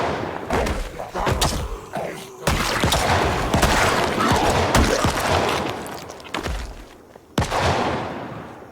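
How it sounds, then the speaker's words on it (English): Gunfire from a maniac's gun in the zombie survival game Project Zomboid, a dense run of loud sharp cracks and thuds that keeps going for several seconds, with a brief lull before another burst. "that maniac with his gun started shooting again"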